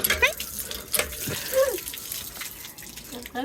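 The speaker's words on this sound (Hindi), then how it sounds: "नलका चलाओ।" Kitchen tap running into a sink while cooking chicken qeema and bhindi masala, a steady splashing water flow with clattering handling noises throughout.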